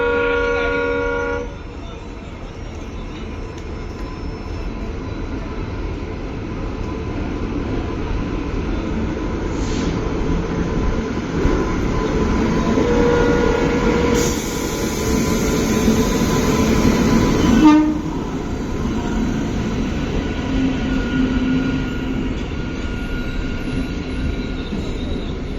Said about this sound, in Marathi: सोलापुर मुंबई छत्रपति शिवाजी महाराज टर्मिनस वंदे पर आ रही है